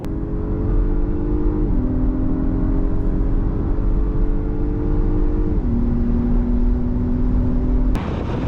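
Cars drag racing side by side, an Audi Q7 S line, Acura MDX Type S and Volvo XC90 T8, heard as a loud steady engine drone with rising tones stepping through gear changes amid heavy road and wind roar, ending abruptly.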